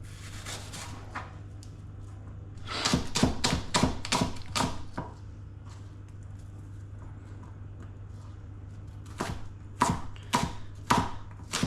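A knife chops an apple on a board for a pumpkin loaf: two quick runs of crisp, close taps, about six strokes each, separated by a few seconds of quiet with a steady low hum underneath.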